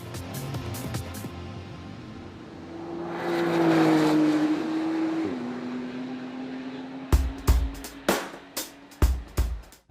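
A Porsche 911 Carrera GTS on a race circuit: its engine note builds and holds a steady high drone, then fades. Sharp, rapid pops and bursts follow, each loud and close.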